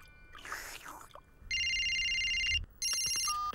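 In a Ben and Holly's Little Kingdom cartoon, a brief voice speaks, then an electronic telephone rings twice in clear, bright bursts separated by a short pause.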